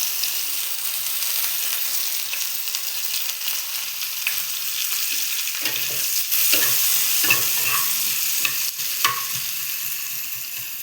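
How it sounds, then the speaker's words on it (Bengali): Sliced onions frying in hot oil in a pan for a fish curry give a steady, bright sizzle, with the intermittent scrape and clack of a spatula stirring them. "প্রথমে দিলাম পেঁয়াজ"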